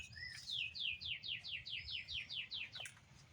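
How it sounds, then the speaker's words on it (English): Garden birds chirp in quick repeated descending notes, about ten in a steady run, bright and fairly close over faint low background hum. "Birds are just cutting up."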